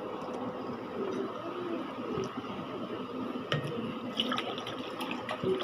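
Drinking water poured into a glass at a home meal gives a faint, gentle trickle and splash, with soft clinks and small knocks nearby.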